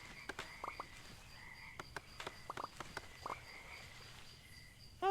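Frogs croaking in the frog farming sim Mudborne, a run of short separate croaks scattered over a quiet outdoor ambience with faint chirping, fairly close and clear, no talk.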